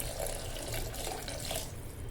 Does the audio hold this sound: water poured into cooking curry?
yes